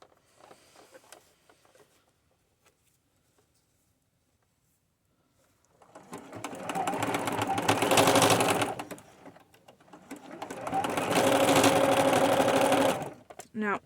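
A sewing machine stay-stitches a boho pixie skirt made from upcycled materials, running in two long, steady, loud bursts after a quiet stretch. Someone talks briefly at the start.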